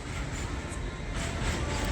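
A train rumbles steadily past, a dense low roar with a clattering edge that holds at an even, fairly loud level throughout.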